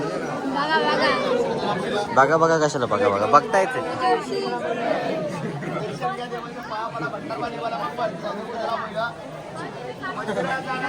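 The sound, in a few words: crowd chatter at Jejuri temple main gate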